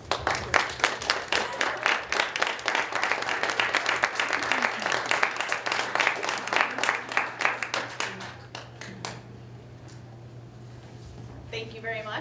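Audience claps at a women's awards ceremony, a rhythmic patter of hands over a low hum that thins out after several seconds, with a voice speaking near the end.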